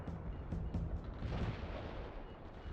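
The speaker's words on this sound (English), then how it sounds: "Heavy artillery barrage inbound." Heavy artillery barrage in a military strategy video game, a dense continuous rumble of distant booms and blasts rolling together, fairly faint with no voices over it.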